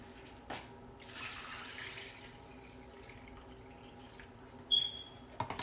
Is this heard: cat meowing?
no